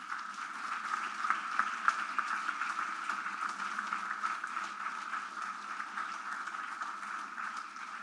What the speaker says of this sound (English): So to all the head tutors, a special round of applause.